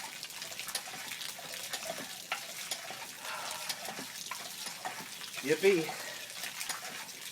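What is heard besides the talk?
hand pump pumping water from shallow well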